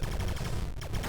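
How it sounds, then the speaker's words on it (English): Rapid stream of retro arcade turret fire in the 1982 Atari prototype game Akka Arrh, a dense continuous run of electronic shots at steady loudness with no talk. "They're firing carrots at me!"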